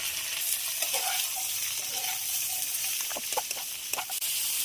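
Bottle gourd pieces with turmeric and salt sizzle and fry in hot oil with onion, garlic and green chilli while being stirred, a steady close hiss broken by scraping stirring clicks near the end.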